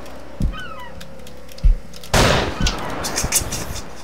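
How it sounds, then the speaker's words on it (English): A loud shotgun blast in the video game Poacher, a sudden broadband burst that trails into a noisy tail, preceded by a couple of sharp thumps and faint chirps. "Shot me with a shotgun?"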